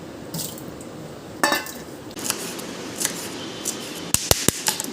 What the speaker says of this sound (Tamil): இதையும் லைட்டாக அலசிக்கலாம் இதுலேயும் மண் இருந்தால் இருக்கும்